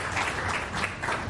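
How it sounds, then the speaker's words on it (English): A lecture meeting audience claps to welcome a speaker, a brief burst of steady applause from a crowded hall that is moderately loud and continuous. "Let us welcome him with a huge round of applause."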